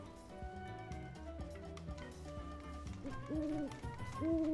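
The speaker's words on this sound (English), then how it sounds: "And there's the bird there." A bird hoots in a few clear, rising calls in the Corel region of Final Fantasy VII Rebirth, heard over layered game music.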